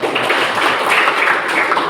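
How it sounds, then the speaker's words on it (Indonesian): A seated audience at a talk on religious moderation claps together in a brief, even wash of applause that holds steady at moderate loudness for about two seconds, with no voices on top. "Tepuk tangan."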